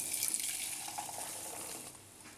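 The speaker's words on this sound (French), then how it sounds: "Voilà, on filtre pour éliminer au maximum les impuretés." Liquid for almond financiers is poured through a small sieve, producing a soft, close trickling splash that fades over a couple of seconds, with no talk.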